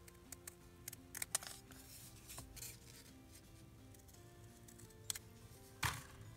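Scissors snip through junk journal paper in a quiet craft room, a few sharp crisp cuts scattered across the stretch with soft handling noises between them.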